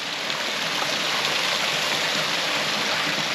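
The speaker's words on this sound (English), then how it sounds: "Man-made waterfall." A man-made waterfall at a nature preserve in Plano rushes steadily, a loud, continuous wash of falling water heard close up with no voices.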